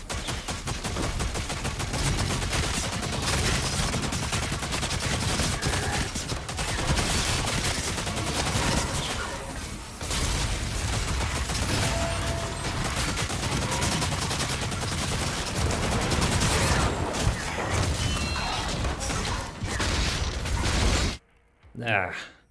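Dense, continuous gunfire and mechanical clatter from DOOM: The Dark Ages fill the clip at high volume, with rapid overlapping shots and impacts as the player is hit from all sides, cutting out abruptly near the end.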